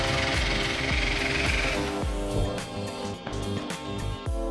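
A drill spinning a nylon abrasive wheel carves into foam insulation sheets while building a camper, giving a continuous loud grinding buzz with a pulsing rhythm throughout.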